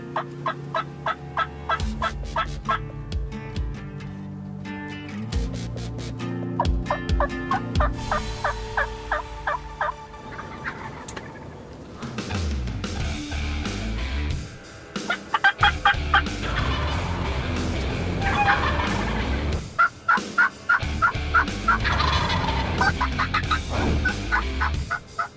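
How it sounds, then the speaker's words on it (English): Two Rio Grande wild turkey gobblers gobble repeatedly in a Kansas field, loud rattling gobbles in bursts over steady low background sound, with no talk. "these two gobblers gobble and strut all the way in"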